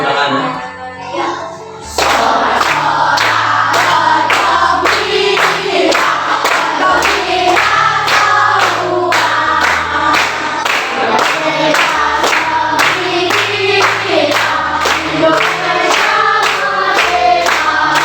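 A Grade 5 primary school class in Indonesia claps hands together in rhythm, loud and close, mixed with children's voices singing or chanting along after a brief quieter start.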